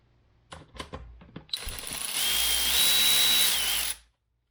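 A few quick ratchet clicks and taps precede a steady, whirring run of a power tool setting bolts during a Hellcat supercharger install, cutting off abruptly at the end.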